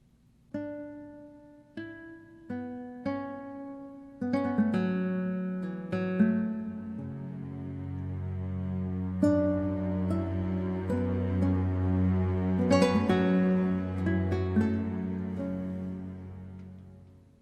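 A few plucked nylon-string guitar notes from Orchestral Tools SINE Factory samples ring out alone, then a lush bed of sustained strings swells in beneath the melody.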